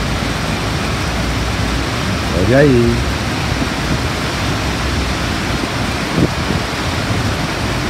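Steady rain falls over a city avenue in Manaus, a constant broadband hiss with a brief passing whine and a few knocks; someone speaks briefly over it.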